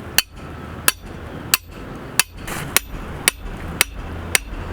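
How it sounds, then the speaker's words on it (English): Hammer driving a metal dog-proof trap stake into the ground outdoors, eight sharp, evenly spaced strikes about every half second, close and clear. "You're going to take your hammer and hit it in."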